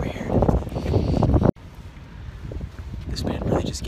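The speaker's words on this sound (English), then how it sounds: "It's freaking windy too." Gusty wind buffets the microphone in loud, roaring bursts, broken by a brief dropout, then continues more steadily with some rumbling noise.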